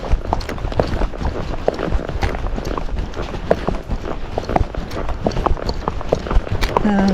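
A Tennessee Walking Horse walking on a trail, its hoof footfalls falling in a steady, quick rhythm, moderately close and mixed with rustling and other movement noise.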